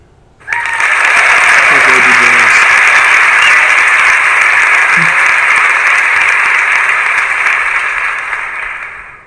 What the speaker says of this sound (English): Hey, Google. Woo. Clap your hands.